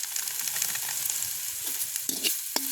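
Onions and green chillies sizzle and fry in a pan, making a steady crackling hiss close by, with a few sharp pops and stirring clatters near the end and no talking.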